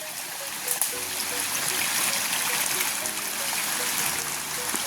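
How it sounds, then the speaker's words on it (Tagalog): A running stream on a farm lot in Calauag, Quezon flows steadily toward a mini waterfall, a continuous close rushing and trickling wash with faint gurgles throughout. "running water pa rin po itong isang side na to. Ito po yung papunta doon sa mini falls."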